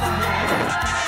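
A studio audience at a Bolivian TV game show roars for a contestant, a dense, loud wash of cheering and shouting voices that fills the whole moment.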